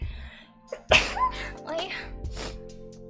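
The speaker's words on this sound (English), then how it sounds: "I sneeze" A single sharp sneeze bursts out, close and loud, followed by a short exhale amid quiet room tone.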